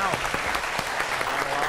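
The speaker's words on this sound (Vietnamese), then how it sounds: "vỗ tay nào" An audience claps in a quick, steady rhythm, many hands together at close range for a couple of seconds.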